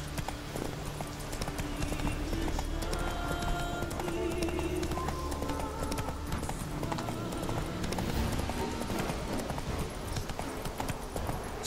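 A horse gallops in The Witcher 3: Wild Hunt, with steady rapid hoofbeats under continuous music and game sound throughout.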